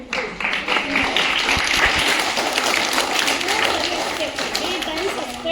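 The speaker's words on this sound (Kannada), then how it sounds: "ಚಪ್ಪಾಳೆ ಹೊಡಿಬೇಕು ಏನೇ ಮಾಡಿದ್ರು" Applause and clapping from the audience at a government school event where bags are gifted to students, a dense, steady patter of many hands filling the room at close range, with voices mixed in throughout.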